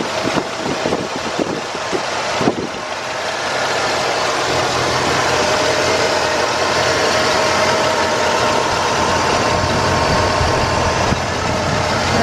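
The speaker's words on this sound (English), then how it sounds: "Everything's running nice and smoothly under the hood." Under the open hood of a 1982 Cadillac Eldorado with 18,000 miles, the engine idles in a smooth, steady, loud drone heard up close, after a few brief knocks and handling sounds at the start.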